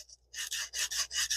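Emery cloth rubs the spool axles of a 1980 ABU Garcia Ambassadeur 5000 baitcasting reel in five quick, even back-and-forth strokes, close and fairly soft, after a brief faint scrape.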